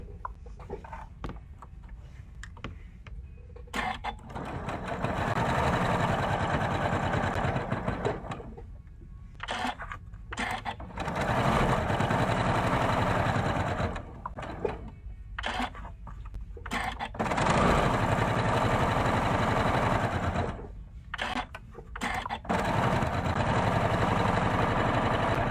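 Sewing machine stitching quilt half square triangles with a quarter-inch seam, running in several sustained bursts of rapid mechanical whirring separated by short pauses, close and clear with no talk.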